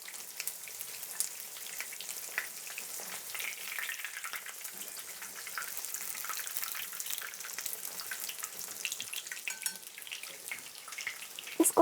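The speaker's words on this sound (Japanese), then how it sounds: "揚げています。" A breaded chicken breast cutlet frying in oil over medium to medium-high heat, a steady soft sizzle and crackle with scattered pops, fairly quiet and close, with no talking.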